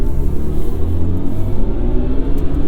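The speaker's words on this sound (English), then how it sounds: "You hear those really cool, what BMW calls iconic sounds." BMW i4 M50 electric car accelerating with its synthetic IconicSounds drive tone, a steady low rumbling hum with layered tonal bands that rises slightly and holds loud and close throughout, no talking.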